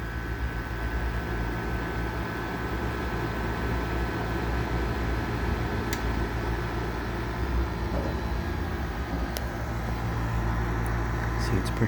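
An air conditioner running for its first time of the summer hums steadily with a broad whooshing drone and faint rattle, with a few tiny ticks on top and no pauses.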